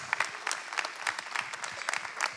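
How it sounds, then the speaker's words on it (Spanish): Sparse audience clapping at a comedy show, a thin, uneven patter of individual claps at moderate distance, fairly quiet. "Fuerte aplauso para el hermano que quiere más dinero"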